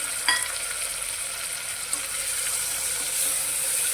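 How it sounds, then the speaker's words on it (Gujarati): Two medium tomatoes, very finely chopped, go into a hot pan for a peanut dish and sizzle with a steady, close frying hiss. A brief clatter marks the start, and the sizzle holds and grows slightly louder toward the end. "મેં 2 મીડિયમ સાઇઝના ટામેટાને આ રીતે એકદમ ઝીણા ઝીણા સમારી લીધા છે, તે અંદર ઉમેરી લઈશું"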